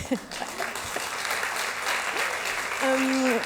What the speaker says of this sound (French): Et vous pouvez applaudir maintenant si vous voulez